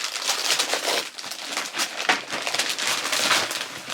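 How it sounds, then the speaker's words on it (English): Continuous crinkling and rustling of wrapping paper as Christmas presents are opened, close and fairly loud, with uneven bursts of crackle throughout and no talking. "Pass me your wrapping paper, Bubby."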